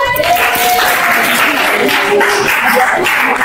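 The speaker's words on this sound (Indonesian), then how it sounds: "Tepuk tangan untuk semua yang sudah tampil." A classroom claps for the groups that have just presented, a brief, loud burst of many hands clapping together with voices mixed in.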